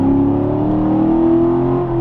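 A bone-stock Chevrolet Corvette Grand Sport engine pulls loud and close with a sustained, even droning tone during a short burst of acceleration, with no voices.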